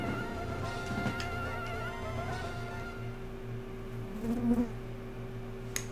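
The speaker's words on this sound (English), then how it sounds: "I think you guys just heard a fly, like, buzz right by my mic." A fly buzzes close past a microphone, a brief rising buzz near the end over a steady electrical hum, with a faint tap just after.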